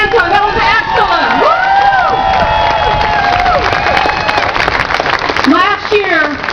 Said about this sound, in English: Another round of applause for Anton.